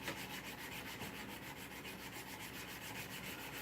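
A surface is hand sanded toward a 400 grit satin finish, giving a steady, even rubbing scrape with rhythmic back-and-forth strokes, close and fairly quiet, with no talk.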